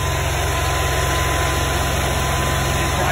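A Kawasaki small engine on a Club Car golf cart runs at a steady idle, a continuous close, loud droning hum with a low pulsing rumble and no change in pace.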